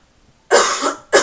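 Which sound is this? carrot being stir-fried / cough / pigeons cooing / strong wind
cough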